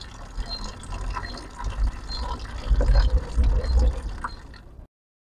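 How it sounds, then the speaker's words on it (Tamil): Water runs out of the tap of an RO water purifier, a steady splashing gush that grows louder partway through, then stops abruptly near the end. "நல்லா தண்ணி கீழே போகுது."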